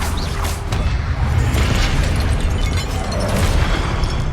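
A continuous blast of loud, dense fire explosions bursts close up, the Confringo spell in the Hogwarts Legacy video game, with rumbling booms and crackling debris and no talk.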